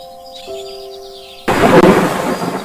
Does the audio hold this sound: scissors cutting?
no